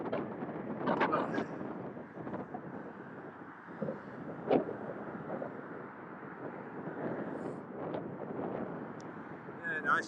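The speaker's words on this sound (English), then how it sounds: "You can get a nice view anyway if you can hear me over the wind." Wind buffets the microphone on an outdoor nature walk, a loud continuous rumbling gust throughout while someone talks under it.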